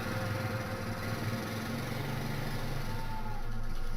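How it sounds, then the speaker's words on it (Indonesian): A motorcycle engine hums steadily as the rider pulls away. It is fairly quiet and somewhat distant, with a low idle-like drone that grows slightly louder toward the end. "melenggang dengan sepeda motornya meneruskan perjalanan mereka"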